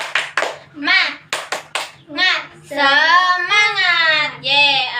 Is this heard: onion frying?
no